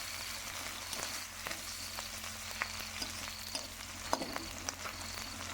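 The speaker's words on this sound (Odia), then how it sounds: "ଭଲ ଭାବରେ କଟା ପିଆଜଟାକୁ ତେଲରେ ଭାଜିଦେବା, ଯେମିତି ବ୍ରାଉନ୍ କଲର୍ ଆସିଯିବ।" Chopped onions frying in hot oil for a crab curry, a steady soft sizzle with scattered light pops and occasional stirring clicks, close up and fairly quiet, with no talking.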